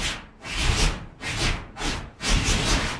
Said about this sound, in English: I just rubbed my hand back and forth quickly over the bag that it was packed in